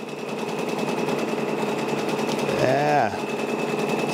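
A Brother PRS 100 embroidery machine stitches a patch with a fast, steady mechanical chatter at close range, briefly rising in pitch near the end while a voice speaks a word.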